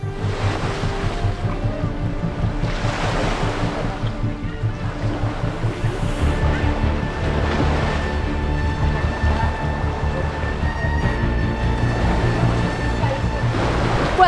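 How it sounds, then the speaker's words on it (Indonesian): Loud, continuous surf of high-tide ocean waves surging and crashing off an Indonesian island, with heavy wind rumble and a low engine drone beneath. "ini ombak sedang pasang-pasangnya ya Pak, lagi naik-naiknya"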